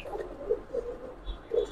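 A Shapchila Giribaz pigeon gives soft, faint repeated coos, three or four short throaty pulses spaced about a quarter second apart against quiet background noise.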